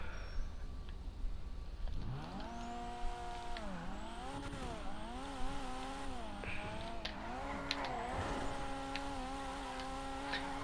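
Paul Walker's Toyota Supra driving in Grand Theft Auto 5, the engine revving up and down through repeated accelerations and gear changes, close and steady with faint tire noise.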